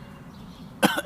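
A single short, deliberate cough breaks the quiet near the end, close and fairly loud, following background noise at about -33 to -30 decibels.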